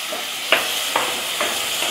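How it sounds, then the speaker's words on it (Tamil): Tomatoes and curry leaves fry in a pan for a broken wheat bisibelebath, with a steady sizzle and three brief scraping stirs of a spoon. "தக்காளி வதங்கிருச்சுங்க நல்லா."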